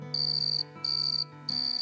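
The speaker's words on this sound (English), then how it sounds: "And what about the sounds of crickets at night?" Crickets chirp at night in three regular bursts, each a steady high trill lasting about half a second with short gaps between, clear and close over a faint low hum.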